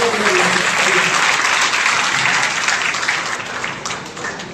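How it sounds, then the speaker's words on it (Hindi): People at a training completion event for locomotive pilots applaud the monitors. The dense, loud clapping is heard close by, a faint voice runs underneath, and the applause thins and tapers off near the end. "तो मॉनिटर के लिए थोड़ा ताली बजाएंगे।"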